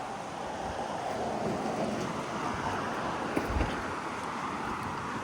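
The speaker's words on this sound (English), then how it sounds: "It's a bit windy here." Steady, roaring wind buffets the microphone outdoors on Staten Island, a broad continuous rush with a brief thump partway through and no voices.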